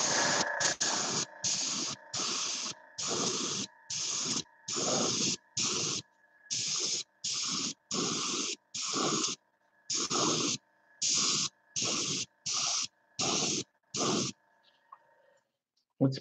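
Brown spray paint hisses from an aerosol can in roughly fifteen short, evenly spaced bursts, close and steady, with a faint hum running underneath.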